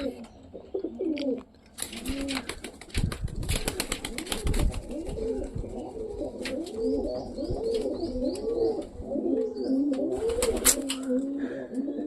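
Pigeons cooing in their loft, a steady string of soft, rolling coos close by, with some wing flapping and clattering movement in between.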